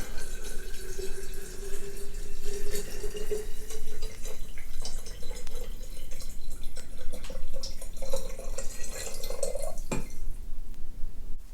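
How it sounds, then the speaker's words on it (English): Elderberry decoction pours from a container into a bottle, a steady liquid trickle with small drips and a faint glassy ring near the end, close and without talk. "Then I'll pour in the elderberry decoction."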